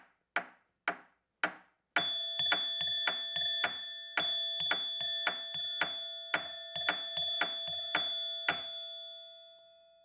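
Bright metallic pings ring out from a wrenchophone, a set of tuned wrenches, with each strike's tone lingering. Dull knocks on the side of a box keep a basic pulse beneath them, and the struck notes form a lively rhythmic pattern.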